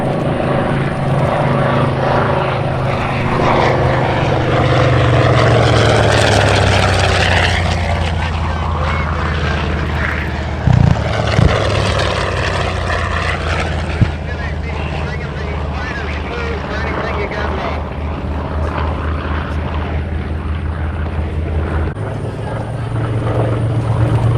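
WWII TBM Avenger propeller warplanes fly past at the Terre Haute airshow, a loud, steady roar of piston engines and propellers that swells and sustains throughout, with brief louder bumps midway.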